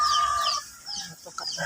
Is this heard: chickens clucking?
yes